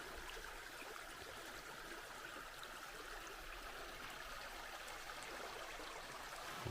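Nancytown Creek flowing beside a hiking trail near Nancy Town Falls in Mount Airy, Georgia, a steady soft rushing and trickling of water, constant and moderately distant without voices.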